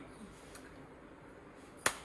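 A single sharp hand clap rings out near the end, loud and close, after a stretch of quiet room tone.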